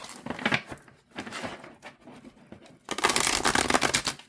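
Oracle cards from a Modern Mythology deck are shuffled by hand, with bursts of crisp papery riffling and flicking, a pause, then a louder, denser run of shuffling near the end.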